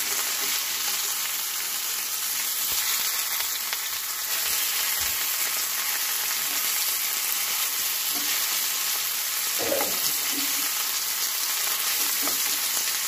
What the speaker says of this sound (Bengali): এপিট ওপিট 30 সেকেন্ড করে ভেজে নেব।